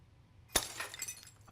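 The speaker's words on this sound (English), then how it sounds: "Was that sound of breaking glass?" Glass breaks in the video game Chaos;Child: a sudden sharp crash after quiet, followed by a scatter of tinkling shards fading over about a second.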